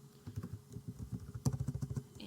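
Fingers tap out a file name on a computer keyboard, a quick, close burst of light key clicks with a brief pause before a faster flurry.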